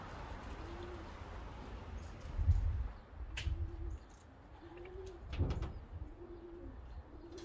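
Racing homer pigeons cooing in a backyard, soft repeated low coos spaced a second or so apart over a steady outdoor murmur, with a few faint chirps and no talking.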